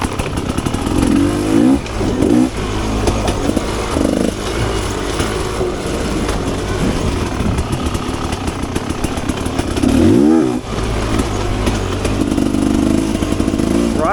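A Rieju Ranger 300 dirt bike with an FMF Gnarly exhaust climbs a hill in third gear, its two-stroke engine droning loud and steady with sharp revving surges and a few dips in throttle.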